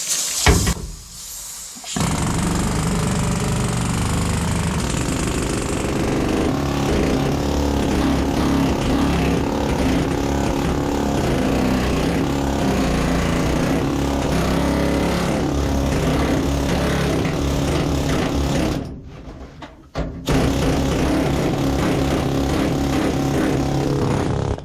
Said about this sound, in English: this old air hammer does not mess around